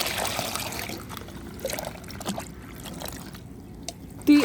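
Three spoonfuls of Epsom salt being stirred into water for watering plants: soft swishing and light trickling of liquid close by, with a small clink near the end.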